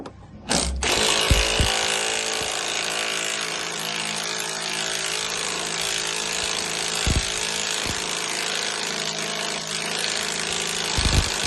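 An air impact gun working on a bolt during a 2-inch lift kit install on a Chevy Tracker: a loud, continuous, close mechanical buzzing and rattling that runs steadily for several seconds after a brief start, with a few knocks and no talk.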